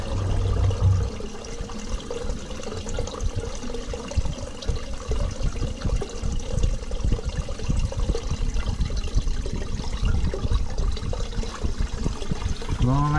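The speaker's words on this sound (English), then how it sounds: "And here comes the flush." A toilet flush rushes through a clogged drain pipe, a loud, continuous churning gush of water with gurgling and trickling that fills the whole stretch and keeps up a steady flow throughout.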